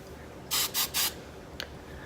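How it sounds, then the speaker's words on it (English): Hairspray from an aerosol can sprayed onto hair in three quick, close hissing bursts, followed by a faint short click. "I spray some right there so the hair will stay away from my face"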